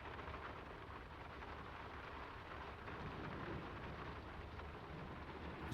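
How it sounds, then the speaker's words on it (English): Steady heavy rain pours in the video game Draugen, a dense continuous hiss with a low rumble underneath, even and moderately loud throughout. "It's getting late, and the rain's not abating."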